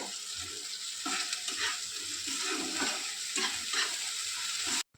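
Pointed gourd and prawn curry is stirred and sautéed in oil in a pan over a low gas flame, a steady close sizzle with intermittent scraping stirs, ending abruptly.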